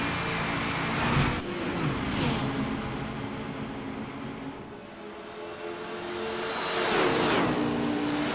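A race car in Gran Turismo 5 drives past with an engine note that swells, falls away, then builds again as it revs through gears, at moderate level with no talk.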